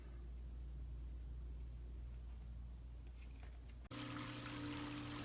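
An overflowing DIY infinity aquarium with no sump or check valve, its pump running as water spills over and trickles down; a steady close wash of flowing water that shifts abruptly to a brighter, splashier pour near the end.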